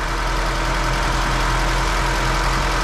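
Fiat Abarth with a carburettor idling after being restarted from long storage, a loud, steady mid-to-low engine hum running continuously with a faint regular knock in the rhythm.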